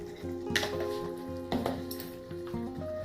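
Ground spices, coriander, chilli and turmeric powder, sizzling in hot oil for a Bengali lote fish kofta curry, with a steady close frying hiss and a few soft stirring scrapes and spoon clinks.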